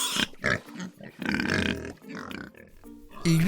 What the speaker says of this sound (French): Le prochain animal est le cochon.